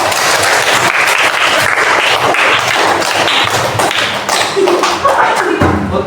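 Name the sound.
children clapping hands in class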